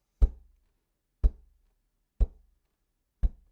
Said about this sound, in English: we're going to get used to just tapping the guitar on the beat.